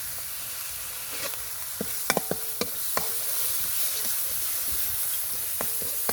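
Cumin, cinnamon, cardamom and cloves fry with salt in a hot pan, giving a constant even sizzle and hiss. Scattered sharp clicks of a stirring utensil tap through it nearby, and no one speaks.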